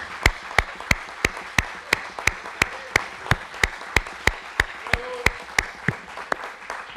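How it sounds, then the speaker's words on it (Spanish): Applause during a deliberative council session, made of regular sharp synchronized claps at a steady rhythm of roughly three per second over a soft background of scattered clapping, fairly loud and close, with no speech. "desearle este aplauso"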